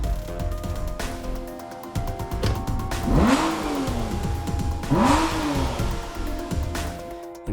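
Aston Martin V12 Vantage S with its big V12 in a small car, engine revving loudly under a steady running drone, with two sharp rising-and-falling rev sweeps close by.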